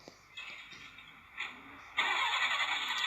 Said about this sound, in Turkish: bu nasıl araba gibi çalışıyor ya?